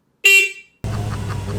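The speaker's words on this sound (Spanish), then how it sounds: "la bocina o pito es completamente de coche o moto" A single short, loud car-style horn blast from a Currus Panther electric scooter, followed by a steady background hum.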